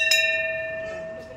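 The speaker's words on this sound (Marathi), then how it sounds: "मग तुम्ही वाजवा ना घंटा" A diner rings a hand bell at a hotel restaurant, giving one bright metallic strike whose ringing tone lingers and slowly fades.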